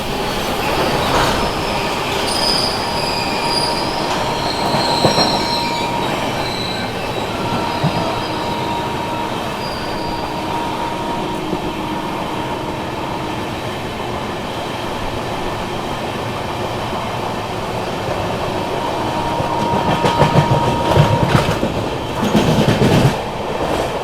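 Sealdah–New Delhi Rajdhani Express (12313) at night, running fast through a station it skips, with steady loud rumble of rail wheels, rhythmic clatter and wheel squeal that swells near the end; no voices.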